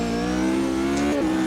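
A 1993 Formula 1 car in the sim racing game Automobilista 2 holds a steady, loud engine note, then drops sharply in pitch as it downshifts to second gear.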